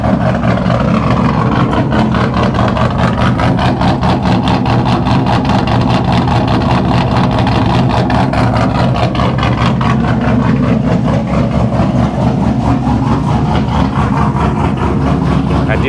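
A loud engine idles continuously with an uneven, loping rumble at a high cold-start idle, its low throb pulsing steadily throughout.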